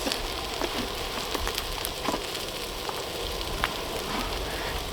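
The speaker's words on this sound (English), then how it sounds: "I'm just cooking up some peppers and onions." Peppers and onions frying on a Tembo Tusk Skottle outdoors on the trail, a steady close sizzle with faint crackles and pops throughout, with no voices.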